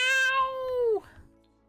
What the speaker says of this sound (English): I don't know if you can hear the kitty meowing right now